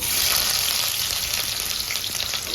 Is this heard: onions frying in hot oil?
yes